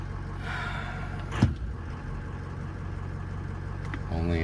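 A car engine idles steadily with most components unplugged, a low even rumble holding constant throughout, with a brief bump partway and a slightly louder stretch at the end.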